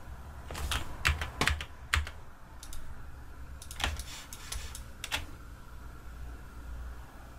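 Keys clack on a computer keyboard in quick scattered bursts with sharp, close taps and a couple of firmer single strikes like the Enter key, over a faint room hum and no talking.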